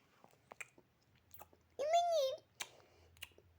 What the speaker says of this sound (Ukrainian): А що ти жуєш